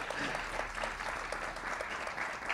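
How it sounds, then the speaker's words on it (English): Audience at a multi-faith tribute gathering gives a brief round of applause, a soft even patter of many hands lasting a couple of seconds, heard at a moderate distance. "Maybe a little applause."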